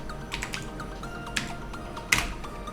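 Computer keyboard being typed on, a few scattered key clicks spaced irregularly with one sharper louder tap near the end, close and clear with no talk.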